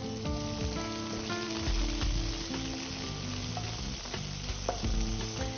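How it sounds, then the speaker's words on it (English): Sliced onion frying in oil with fennel seeds and spices for achari chicken, a steady close sizzle with scraping stirs through the whole stretch, no talking. "I'm putting in my 1 sliced onion until they turn brown"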